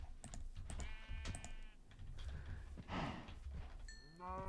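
Cows mooing in Minecraft, several low game moos spread across the clip alongside other farm-animal sounds and faint keyboard-like clicks, with no talking.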